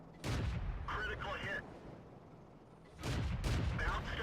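Tank destroyer cannons fire in World of Tanks, heavy booming shots with rumbling tails arriving in two clusters about three seconds apart, loud and close, while someone talks over the battle.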